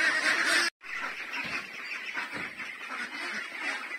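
Laying hens, about 24 months old, at snack time on organic Madre de Agua leaves, a dense flock of loud honking, clucking calls close by, continuous apart from a brief silent break near the start.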